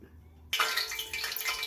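A hot skillet, readied for vegan beer-battered fish sticks, gives a sudden loud hiss and sizzle as water hits it, after a near-silent moment, then keeps crackling steadily and close.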